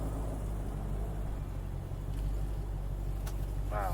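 A 2017 Dodge Charger Hellcat idles steadily with its engine left running, a low continuous rumble throughout with faint background shuffling.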